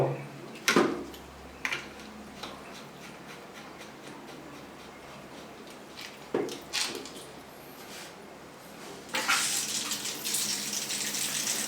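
Water running from a Korean shower head with a colored-stone handle, a steady hiss broken by a few sharper splashes, and a louder, fuller gush toward the end.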